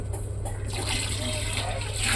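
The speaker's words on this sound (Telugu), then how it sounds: "మూడు లోటాలు పోసుకోవాలి వాటర్" Water poured from a vessel into a large pot for a pulao made with one and a half kilograms of rice, a close steady gushing flow with a low background hum.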